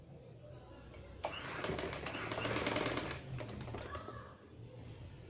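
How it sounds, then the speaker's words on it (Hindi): Sewing machine running fast, stitching along cloth at a garment's collar, a burst of rapid mechanical clatter of about two seconds that then slows and fades, close by, with no talk. "कपड़े के ऊपर सिलाई लगनी है।"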